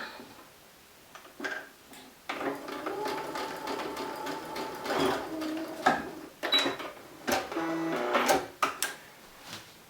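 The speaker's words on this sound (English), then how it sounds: "I'm going to stitch across the bottom. Go ahead and make that seam." A sewing machine stitches the bottom seam of a fabric gift bag, a low quiet whirring run broken by intermittent clicks and handling knocks, close and without talk.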